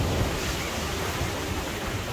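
Ocean waves at Jimbaran Beach in Bali, a loud continuous rushing surf close by with wind buffeting the microphone, no speech.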